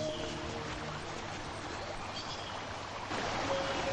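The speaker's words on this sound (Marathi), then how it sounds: "धबधब्याचा आवाज येतोय म्हणजे नक्की ते जवळपास धबधबा असणार" A waterfall roaring nearby as a steady, broad rushing wash of water with no breaks, moderately loud and unaccompanied by talk.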